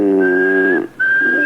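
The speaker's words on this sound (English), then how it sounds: "They say if you whistle in a monotone," A steady, single-pitch whistle held in a monotone, sustained for most of a second, breaking off briefly, then resuming at the same pitch; close and loud, with no talk.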